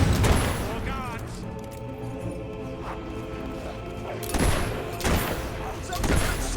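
Gunfire from the video game Fable 3 crackles in scattered bursts amid a busy mix of clashing impacts and game sounds, with a few louder cracks toward the end and talk running underneath.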